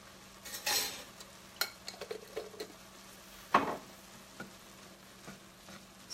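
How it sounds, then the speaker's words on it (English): Chopped jarred garlic stirred into a pot of turkey chili, a spoon scraping and clinking in a few quiet, scattered strokes over a soft simmer, fairly close and without talk. "Stir that in there."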